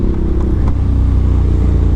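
2025 Ducati Panigale V4 exhaust, a loud, deep, steady engine drone with a fast pulsing rumble, close and sustained throughout with no talking.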